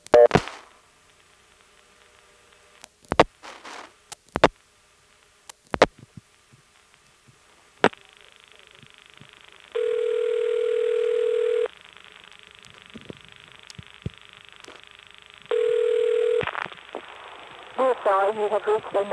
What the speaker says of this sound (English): here's dialing 1 plus a 3-digit code that goes to the Greenville recording